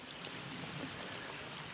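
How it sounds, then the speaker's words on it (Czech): Steady rain falls beside a swollen, muddy small river, a dense and continuous hiss of drops with the running water blended in and no voices. "celý den prší"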